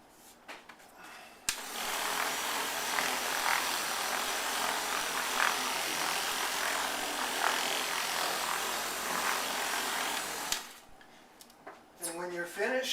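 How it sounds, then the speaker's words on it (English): Electric buffer spinning steadily over a granite countertop with a microfiber towel beneath it, a continuous broad whirring rub lasting about nine seconds and stopping abruptly, with brief clatter afterward. "Turn on your buffer. Just let it spin."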